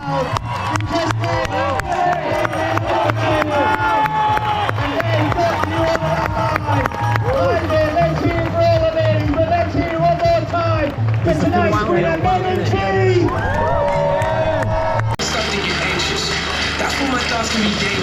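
Dense crowd cheering and shouting runs throughout at a night-time 10k track race, loud and continuous, with a voice speaking over it and a brief shift near the end.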